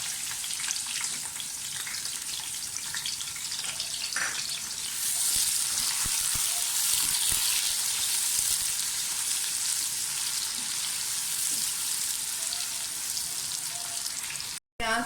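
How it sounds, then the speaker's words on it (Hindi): Onions frying in oil for mutton bhuna, a close, steady bright sizzle with occasional stirring scrapes, running unbroken until a sudden cut at the very end. "प्याज अभी मीडियम फ्राई हुआ है।"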